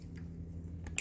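Snippers clip off the excess end of a zip tie on a Lexus 3UZ V8 engine harness, one sharp close snap standing out after a brief quiet stretch.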